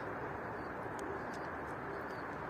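Pet pigeons cooing at dusk after a flight, a soft steady murmur of coos under a broad hiss of background noise, with faint higher chirps scattered through.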